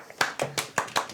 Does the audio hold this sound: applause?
yes